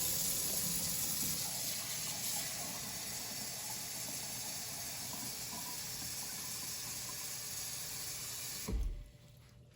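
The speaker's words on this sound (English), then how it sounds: "We're gonna put water in there," Water pours steadily into a pan around pieces of pork, a continuous hissing, splashing flow that runs for several seconds and then stops abruptly.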